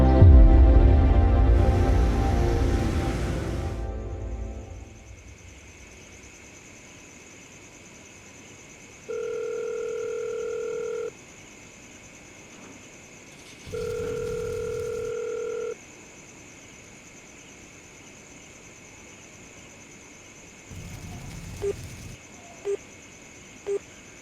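A phone call goes unanswered: a loud noise burst fades out, then two separated spells of steady ringback tone sound against a quiet line, with a few faint clicks and a short noisy stretch near the end. No one picks up.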